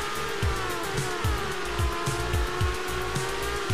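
An F1 race car in the game F1 Drive screams at high revs with a steady engine whine, while rhythmic tire squeals and skidding pulses repeat underneath, loud and close.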